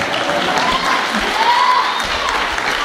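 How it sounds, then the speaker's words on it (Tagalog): Loud, continuous applause from a congregation during a Sunday church service, with a dense even wash of clapping that holds steady throughout, faint voices mixed in. "palakpak mo ng malakas na palakpak"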